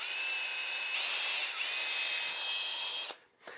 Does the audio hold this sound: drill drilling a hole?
yes